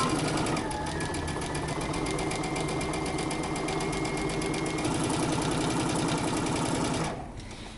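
A sewing machine runs steadily, stitching a jacket seam with a 5/8-inch allowance, its rapid even needle rhythm continuing close by for several seconds before cutting off abruptly.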